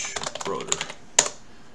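Brief burst of typing on a computer keyboard while designing a 2 by 4 inch pulse motor rotor, a scatter of quick clicks with one sharper tap, close and fairly quiet.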